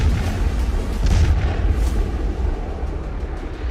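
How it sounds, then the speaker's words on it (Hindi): Indian Army tanks firing during the Kharga Shakti 2026 exercise at the Mahajan Field Firing Range in the Bikaner desert, heard as loud, rumbling booms that roll continuously with deep low-end power. "बीकानेर के रेगिस्तान में सेना के टैंक दौड़ रहे हैं।"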